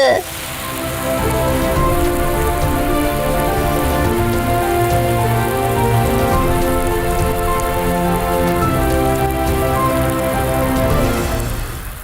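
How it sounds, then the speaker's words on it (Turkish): Steady rain patters on a surface throughout, a dense, even hiss with scattered drop impacts and no talking. "Sanırım yağmur dindi Pepe."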